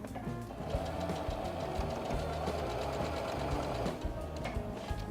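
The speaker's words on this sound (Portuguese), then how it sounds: "E se você quiser costurar do lado de cá, que você tem a marcação, você desce a agulha lá" A sewing machine runs close up, stitching a placemat with a fast, even mechanical chatter and a motor whir, steady throughout with no pauses.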